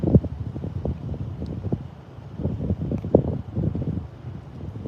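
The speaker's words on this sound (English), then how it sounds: "it's windy" Gusty wind near the Bridge wildfire off Highway 2 in Wrightwood, California, buffeting an open microphone in uneven low rumbling bursts, steady throughout with no talking.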